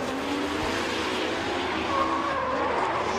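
An orange BMW E30 drift car skids through a competition run, with a continuous loud tire squeal and engine roar carrying from a distance across the whole stretch.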